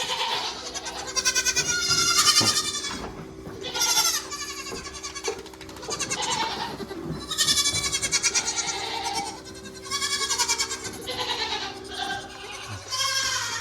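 Goats bleating inside a barn at milking time, several loud wavering calls overlapping one after another throughout, close by, with a low steady hum underneath.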